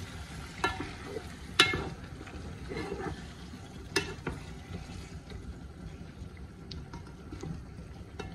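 Tomato being fried with masala in a pan for a fish curry, giving a low continuous sizzle with a few sharp utensil knocks and stirring scrapes up close, and no speech.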